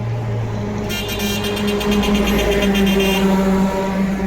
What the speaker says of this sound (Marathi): बघा गाड्या येत आहे, सारा अंधार आहे रस्त्यावर